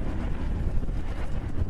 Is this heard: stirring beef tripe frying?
no